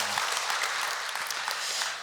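A congregation at a Korean church's Sunday afternoon service claps for the choir after its hymn, a short burst of steady applause that tapers off near the end.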